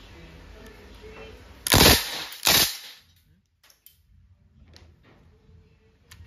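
A Crosman DPMS SBR airgun fires on full auto: two short, loud bursts of rapid cracks in quick succession, followed by quiet handling clicks and faint rustling.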